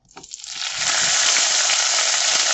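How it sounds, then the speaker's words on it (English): Onions hitting hot olive oil in a pan: a quick clatter, then a loud, steady hiss of frying that swells within a second and holds evenly, up close and without talk. "I'm going to drizzle olive oil, like tablespoon in here. Alright, and I am going to just put in my onions"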